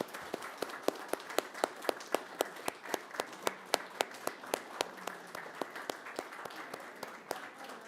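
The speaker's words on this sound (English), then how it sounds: "let's give our EMS workers a round of applause" Steady applause for EMS workers at a city council meeting, a modest group clapping in a fairly even rhythm at moderate distance, continuing for several seconds with no one talking over it.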